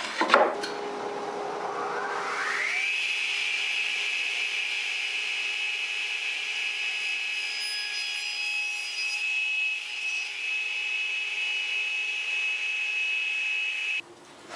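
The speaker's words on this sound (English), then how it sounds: "I'll cut it to length here on the radial arm saw" A radial arm saw in a woodworking shop spins up with a rising whine, then holds a loud steady high-pitched drone while cutting scrap plywood to length before shutting off abruptly near the end.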